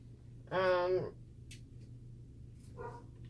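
A single dog bark rings out clearly, followed a couple of seconds later by a shorter, softer bark, with quiet background between.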